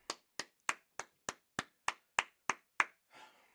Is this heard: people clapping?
yes